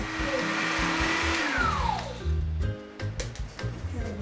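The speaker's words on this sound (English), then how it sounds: "Rosetta uses a food processor or macchinetta to make hers." A food processor whirs loudly and close as it grinds pine nuts, a continuous motor drone with its pitch shifting as the blades work, ending in a few knocks and clatters.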